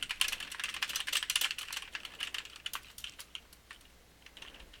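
Someone types on a computer keyboard in quick, irregular bursts of close, crisp key clicks that thin out toward the end, with no talking.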